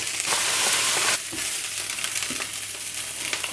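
Vegan fake meat mince fries in a pan with a steady, dense crackling sizzle, loudest in the first second, then easing slightly but continuing without pause.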